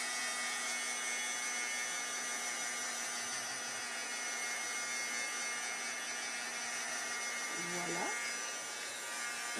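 A small electric drying tool blows on wet card for a handmade pocket card, giving a steady high-pitched whirring hum that runs throughout, with a brief voice near the end.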